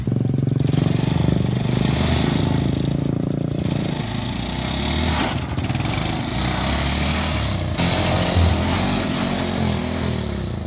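A manual motorbike runs steadily during a riding lesson in the Philippines, its loud, close engine droning and revving with clattering mechanical noise throughout.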